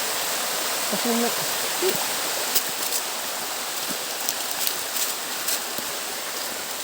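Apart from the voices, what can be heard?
high waterfall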